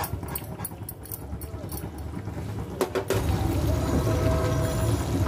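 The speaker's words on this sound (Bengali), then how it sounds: "আমি সম্পূর্ণ দেব না, তিন চা চামচ ক্রিম দিলাম।" Cream goes into a simmering beef kofta curry, with a few soft clinks and stirs at first, then a steady, close liquid bubbling and pouring sound that swells and holds to the end.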